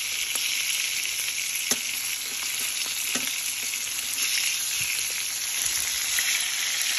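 Pork pieces frying in a pan give off a steady, bright sizzle that stays loud and close, with a few faint clicks of turning, and no voices.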